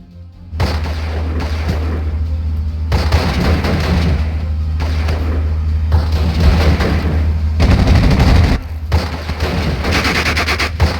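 Sustained infantry rifle and machine-gun fire from the World War II strategy game Steel Division: Normandy 44, dense crackling bursts with booming impacts layered over a constant low rumble, loud and continuous throughout.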